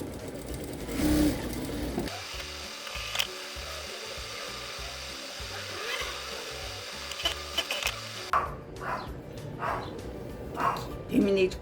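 A sewing machine whirs in a steady, fast rhythmic run as patchwork pieces are stitched together for a 3D quilt block. Talking comes before and after the stitching, and a dog barks now and then.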